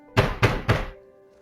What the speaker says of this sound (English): they both hear a loud pounding at the door